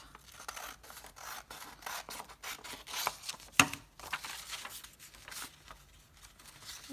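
Scissors trimming folded junk-mail paper for a handmade folio, with quiet, close snipping and rustling in an irregular rhythm and one sharper snip midway.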